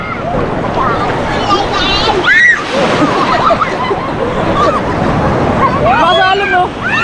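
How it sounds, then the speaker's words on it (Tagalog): Steady roar of strong ocean surf and wind fills the beach scene, with children's excited voices and chatter layered over the rushing water throughout. "Lakas ng alon, no?"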